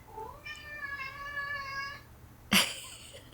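A stray cat, thought to be a neighbour's missing pet, gives one long, clear, drawn-out meow close by, followed by a brief sharp clatter.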